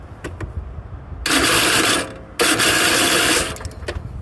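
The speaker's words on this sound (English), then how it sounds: "sounds terrible, like it's the gears in it are going bad" Faulty starter gear on a lawn mower staying engaged and grinding against the flywheel, two loud sustained harsh bursts of mechanical grinding with a short gap between them, set against quieter clicks.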